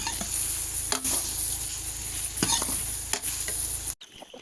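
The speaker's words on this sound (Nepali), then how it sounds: "चाहिँ सुकुटी पनि पाक्दैछ है हाम्रो" Sukuti, dried meat, fries in a pan over a wood fire while being stirred, giving a constant sizzle broken by several sharp scraping stirs, close and fairly loud, with no talk.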